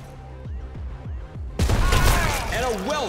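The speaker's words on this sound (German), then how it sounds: "Und jetzt werfen wir die Granate" A grenade explodes in the Showgunners tactical game. Speech comes first, then a sudden loud blast erupts midway and is followed by rumbling, crackling debris noise.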